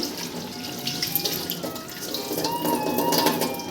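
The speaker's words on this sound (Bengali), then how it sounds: "এখানে হলো কলা পাতা ধুচ্ছি" Banana leaves washed under a running kitchen tap, a steady close splashing stream of water with shifting splatter as the leaves move through it, no voices.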